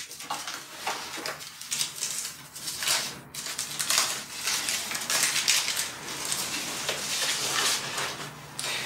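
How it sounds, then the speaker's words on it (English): Crinkly rustling of packaging being torn open and pulled off a new violin bridge, a steady run of close crackles and rattles with no voices. "get rid of this and unwrap the bridge"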